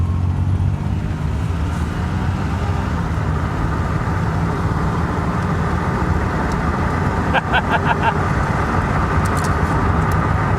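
A homemade kart built from a cut-apart $175 Pontiac Bonneville drives along with a steady, loud engine and road drone throughout, with a brief cluster of squeaks and rattles partway through.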